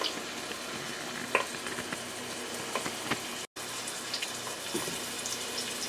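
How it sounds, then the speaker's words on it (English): Oil sizzles steadily in a pan while cooking creamy chicken and broccoli alfredo, a faint continuous frying hiss with small crackles and pops throughout, heard alone without talk. "I can hear the oil now."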